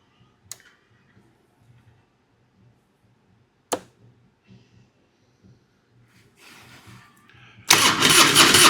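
Someone tries to start a 2003 Harley-Davidson CVO Deuce motorcycle whose fuel pump fails: a few isolated clicks come first, then a brief low churn and a loud burst of engine cranking right at the end.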